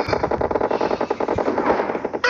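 Rapid automatic gunfire from PUBG BGMI gameplay rattles loudly and continuously in a fast, dense burst of shots lasting a couple of seconds, close and alone without speech.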